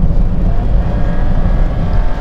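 A new car's engine revving hard as it accelerates, a loud, steady roar filling the cabin with no letup and no voices over it.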